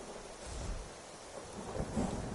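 Thunder rumbles over steady rain in a Skyrim VR storm with lightning, a low continuous roll that swells louder toward the end, no voices present.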